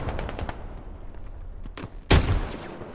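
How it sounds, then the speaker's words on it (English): A machine gun fires in a military shooter game: rapid, close bursts of shots at the start, then a loud heavy blast of sustained automatic fire near the end. "MG opens up."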